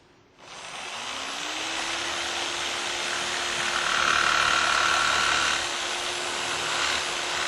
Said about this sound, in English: I'll actually make these sharp turns with the jigsaw